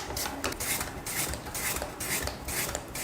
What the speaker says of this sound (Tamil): இப்போ இந்த உருளைக்கிழங்கை நம்ம இந்த மாதிரி பஜ்ஜிக்கெல்லாம் சீவோம் இல்லையா, அதில் வச்சு சீவி எடுத்துக்கலாம்.